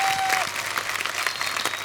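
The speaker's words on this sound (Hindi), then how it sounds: "एक बार बोल बच्चन फैमिली के लिए जोरदार तालियां हो जाए" A studio audience at a Kapil Sharma comedy TV show applauds, a loud, dense wash of clapping that holds steady throughout with no voices over it.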